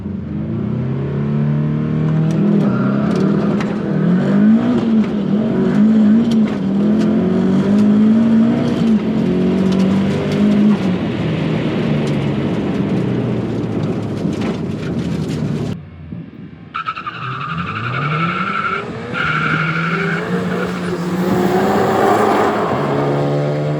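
A 500 hp Mazda Miata drag car on a drag strip roars hard through its launch and gear pulls, loud and close, then the engine note drops as another run of rising revs follows.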